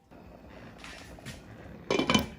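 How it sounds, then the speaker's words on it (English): Yellow rice and water being stirred in a pot, a spoon scraping and clinking against the metal in light bursts that grow louder toward the end. "I will stir this and taste it for salt and seasoning"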